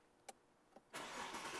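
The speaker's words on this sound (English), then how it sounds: "Your fingerprint's already in here, and it fires the car right up." A car with an aftermarket fingerprint ignition system starts up: two faint clicks, then the engine catches and settles into a steady, moderately loud idle.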